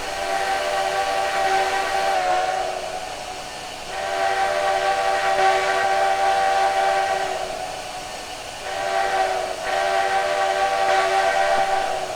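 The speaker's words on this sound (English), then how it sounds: "Not a bad sounding whistle. You can definitely hear the change in the loop from the beginning loop to the middle loop there." Steam whistle of an NP S-10 4-6-0 locomotive in Trainz 2019, a sustained tonal blast held for about twelve seconds with two brief dips where the looped sound shifts, loud and close with no voices.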